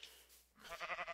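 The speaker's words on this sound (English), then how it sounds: "Those are sheep." A Minecraft sheep bleats once, a short wavering baa rising out of quiet game ambience, fairly close and clear.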